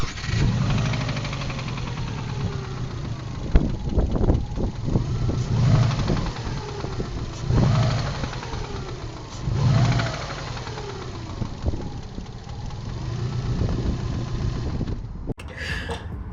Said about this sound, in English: my engine blew up. I think I spun a rod bearing